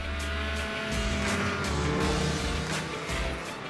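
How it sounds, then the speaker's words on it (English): A 600 snowmobile fitted with an MBRP exhaust can revving out, a continuous buzzing two-stroke engine note swelling slightly in loudness, heard from a moderate distance with no talking. "After installing the can, the sound coming from this sled is way more pleasing to the ear."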